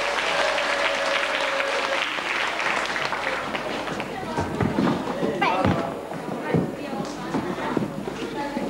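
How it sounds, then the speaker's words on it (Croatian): A crowd applauds the candidates at a school event, steady clapping that thins into scattered claps and shuffling, with voices talking over it. "Aplauz za naše kandidate."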